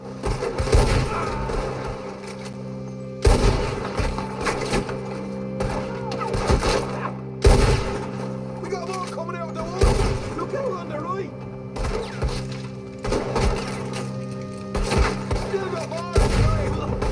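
Gunfire rings out during a shootout in Red Dead Redemption 2, with several loud, sharp shots spaced apart over the clip, mixed with voices talking and a steady game soundscape underneath.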